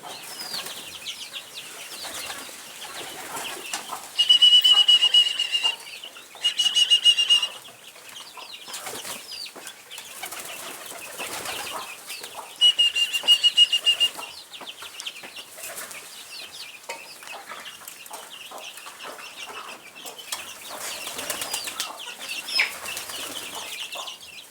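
Free-range Kienyeji chickens on a Kenyan farm cluck steadily while feeding, with several loud bursts of wing flapping and occasional sharp squawks close by.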